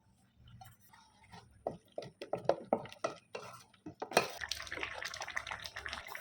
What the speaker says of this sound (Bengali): এবার আমি এই আমুল দুধটা এই ডেস্কির মধ্যে দিয়ে গুলে নেবো